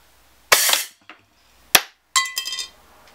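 A gun fires at a metal tank beside a garage from about 8 to 10 feet away. Three sharp, loud cracks come in close succession with a small tick between them, and the last leaves a ringing metallic clang. No voices.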